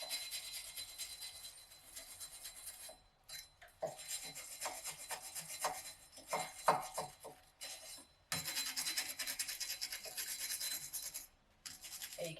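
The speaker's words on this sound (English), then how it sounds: "So I'm gonna go ahead and use my wire brush." Stiff wire brush scrubbing rust from the front brake hub of a Honda S2000, a harsh raspy back-and-forth scraping in bursts with brief pauses, close and fairly loud.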